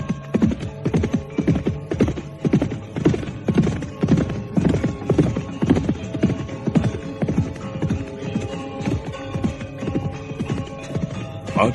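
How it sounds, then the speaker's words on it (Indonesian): Horse hooves gallop as a clip-clop sound effect in an audio drama, with a steady, loud, rapid rhythm of hoofbeats that continues throughout and has no talk over it. "Badrawati dan Lare Angon memacu kudanya pula dengan cepat"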